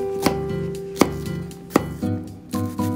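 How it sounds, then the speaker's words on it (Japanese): A knife mincing onion on a cutting board for omurice, before it is sautéed in butter: three sharp, close chops spaced evenly apart over a soft, steady tonal background. "玉ねぎをみじん切りにしてバターで炒めていく。"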